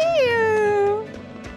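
A single drawn-out meow from a Katz cat creature in Tales of Berseria, loud and close, bending down in pitch and ending after about a second, followed by faint background noise.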